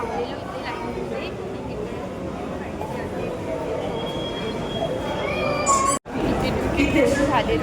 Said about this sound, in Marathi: आता आम्ही मेट्रो स्टेशनवर.